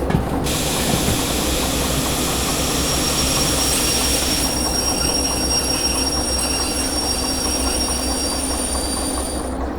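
Train braking in the Derail Valley railway simulator game, with loud, continuous high-pitched wheel squeal over a steady heavy rumble of rolling stock, sustained for the whole stretch with no talking.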